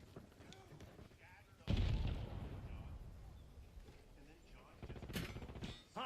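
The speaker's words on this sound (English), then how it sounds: "Tossing frags." Frag grenades going off in a video game: a heavy, booming blast that rumbles on for several seconds, followed by sharper bursts of distant gunfire, with voices faintly underneath.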